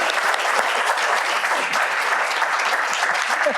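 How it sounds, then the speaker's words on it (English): An audience claps steadily in a lecture hall setting, a dense, continuous round of applause that holds at an even level for the whole stretch. "Let's give these two a round of applause."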